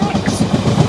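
ScotRail train running past the Kingsknowe level crossing, a loud close rumble with rhythmic clickety-clack of wheels over rail joints, engine drone underneath.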